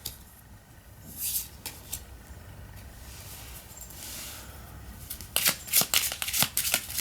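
Tarot cards being shuffled by hand, first a faint riffle, then a quick series of crisp, close flutters and snaps in rapid bursts near the end, with no talk over them.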